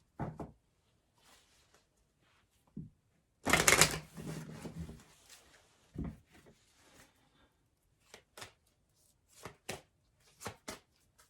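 Tarot cards riffle and slap together in a quick burst, followed by scattered soft taps and shuffling clicks in a quiet room.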